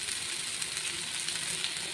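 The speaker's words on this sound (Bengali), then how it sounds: "পেঁয়াজ টমেটো ভালো করে একটু ভাজা হয়ে গেছে। এরপর দিয়ে দেবো লঙ্কা গুঁড়ো" Chopped onion and tomato frying in a pan for a fish curry, as spices go in, with a dense, even sizzle heard close up and no voices.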